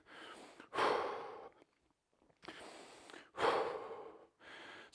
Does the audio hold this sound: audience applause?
no